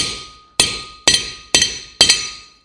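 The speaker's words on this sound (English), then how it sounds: "Sort of letting the hammer drop on it." Hammer striking a vintage steel axe eye, dropped lightly to work out a crease: five sharp, ringing metallic blows at an even pace, each fading before the next, with no talking.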